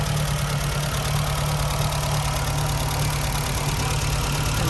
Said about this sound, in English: Engine idling away nicely.